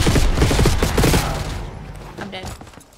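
Gunfire from the Call of Duty Black Ops 6 campaign, loud rapid bursts of shots for over a second, then fading scattered reports with lighter game sounds.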